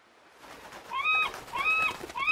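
Cartoon seagulls give short, repeated, rising and falling squawking calls in quick bursts, fairly close, with no talking.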